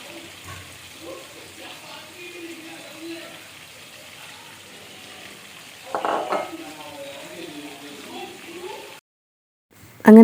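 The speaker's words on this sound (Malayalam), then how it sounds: "എണ്ണ ചൂടായിട്ടാകുമ്പോഴേക്ക് നമുക്ക് ചെമ്മീനെല്ലാം ഓരോന്ന് ഫ്രൈ ആക്കിയിട്ടെല്ലാം എടുക്കാം" Prawns frying in hot oil for a prawn biryani, a low steady sizzle with a brief louder burst of crackling partway through, close and fairly quiet.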